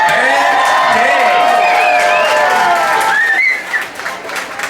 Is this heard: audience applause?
yes